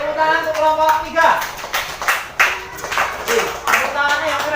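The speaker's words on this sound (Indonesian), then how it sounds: "Oke, tepuk tangan untuk kelompok 3." A class of sixth graders claps for group 3 during a long jump lesson, loose, steady applause lasting several seconds with a voice talking over it.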